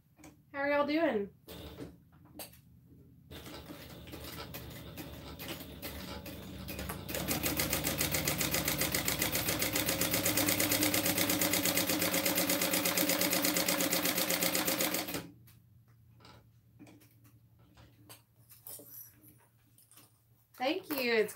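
A sewing machine stitches car trash cans, a steady, loud whirring run of about eight seconds that starts after some handling noises and brief talk, then stops abruptly and gives way to quieter sounds.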